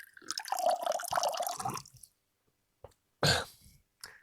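Hands scooping water from a bucket with wet sloshing and dripping, then quiet slurping and swallowing sounds, close and intimate, no talking.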